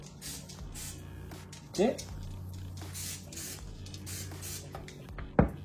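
Vegetable oil spray misted onto chicken skewers gives short, sharp hisses at intervals, close by, while a person talks over the kitchen background.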